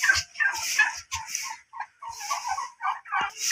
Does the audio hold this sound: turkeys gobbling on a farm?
yes